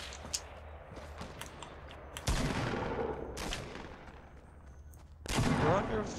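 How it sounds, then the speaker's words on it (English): Gunfire in the Fortnite video game, arriving as bursts of rapid shots with loud volleys near the middle and end, set against quieter background game sounds. "Oh yeah, we're being shot at. We're under fire."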